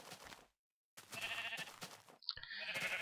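Sheep in the Minecraft video game bleat in two short bursts separated by a silent gap, fairly close and alone, with a brief game click before the second bleat.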